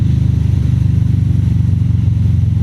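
Harley-Davidson Street Bob motorcycle rolling through a sweeping turn, its V-twin engine a steady, loud low rumble with a throbbing pulse and wind noise, no voices over it.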